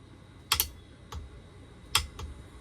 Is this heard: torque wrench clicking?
yes